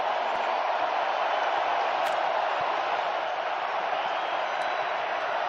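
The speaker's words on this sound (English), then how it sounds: "The crowd is loud, energy." A loud football stadium crowd at a Bears versus Packers NFL game roars in a steady, dense wash of noise that holds without a break from start to finish.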